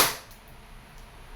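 A single sharp snap from a WE 5.1 Type K airsoft pistol fired on semi-automatic, close and brief, followed by quiet.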